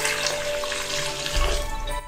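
Warm water poured onto yeast for pizza dough, a continuous splashing stream that swells near the end before cutting off.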